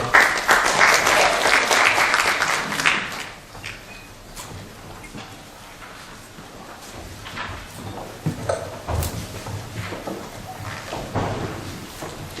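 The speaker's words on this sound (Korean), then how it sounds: "박수로 맞이해주시기 바랍니다" Applause from a forum audience welcoming a speaker swells for a few seconds and then fades into a quieter room with scattered shuffling and small knocks.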